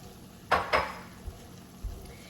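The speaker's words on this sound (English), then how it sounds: "So give that a quick toss." A turkey and cabbage stir fry is tossed in a pan, giving two quick clattering swishes of food and pan and then a couple of soft low thumps over a faint background sizzle. No voices.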